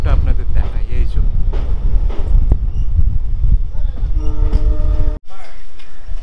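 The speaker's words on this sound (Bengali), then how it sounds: "আমাদের ট্রেন এখন এসে পৌঁছেছে পাম্বান রেলওয়ে স্টেশনে" A train pulling into Pamban railway station, with a loud, continuous rumble and rattle of the cars, a brief tonal horn-like sound near the end, and possible voices under the noise.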